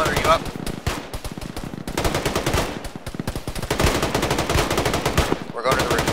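Rapid automatic gunfire in a tactical shooter game, dense bursts of loud close shots firing almost without pause, with a brief break near the end before the shooting resumes.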